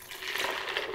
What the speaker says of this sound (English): And then what you want to do is add some water in there.